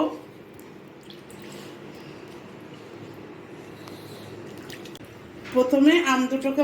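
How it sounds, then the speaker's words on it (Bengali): Two medium-sized mangoes washed under running water: a steady soft rush of water with faint splashes, and a voice speaking over it near the end. "প্রথমে আম দুটোকে ভালোভাবে ধুয়ে নেব"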